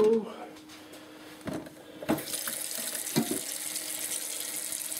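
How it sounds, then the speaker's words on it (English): A kitchen sink tap runs into a pot, starting after a few knocks and handling noises and settling into a steady hiss of filling water. "I'm going to go ahead and fill this up with water"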